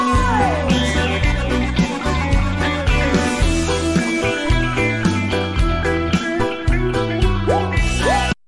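Electric guitar with effects leads a live band performance in Hawaii, with bending, gliding notes over full, loud band accompaniment that plays continuously before cutting off at the end.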